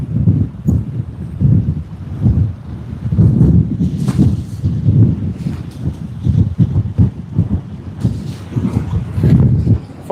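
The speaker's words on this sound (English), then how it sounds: "it's quite windy over here right now" Strong wind buffets the microphone in heavy, rumbling gusts that rise and fall at Sydney Airport, with faint water sounds underneath.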